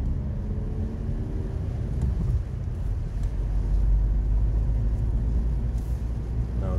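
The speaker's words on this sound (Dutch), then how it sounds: "Nou, het regent best hard." Steady heavy rain and road rumble inside a moving car, a dense continuous hiss over low engine drone, with no talking.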